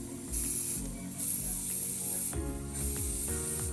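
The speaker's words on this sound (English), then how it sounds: "So we are gonna mix up some of the green here, some of our green, and see how this works and do our first airbrushing." An airbrush sprays green paint on a resin 3D-printed Raphael figure: high thin hissing bursts start and stop over a low compressor hum and clicking mechanism, close and steady, with no talking.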